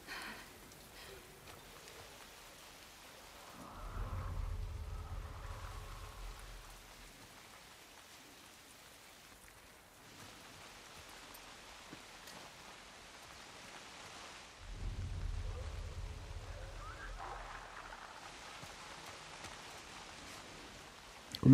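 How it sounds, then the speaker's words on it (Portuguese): Steady rain hisses throughout a stormy outdoor scene in the video game The Last of Us Part II, with two low, distant thunder rumbles swelling and fading beneath it. "o barulho da chuva era para abafar o som"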